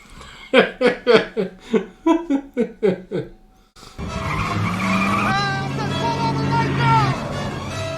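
Car chase from The Naked Gun 2½: a run of about ten sharp, rhythmic skidding bursts, followed by a sustained, loud tire squeal mixed with engine roar.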